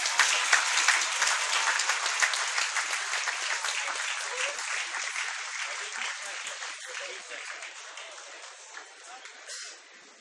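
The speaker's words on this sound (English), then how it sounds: "Everybody, round of applause." Sustained audience applause in a school auditorium at a felicitation ceremony for Class X achievers, a dense wash of many hands clapping close by that gradually tapers in loudness over the stretch.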